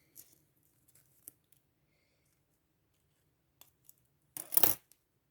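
Scissors snip through material while a Christmas bauble ornament is being made: a few faint scattered clicks, then one short, loud cutting burst near the end, with no talk.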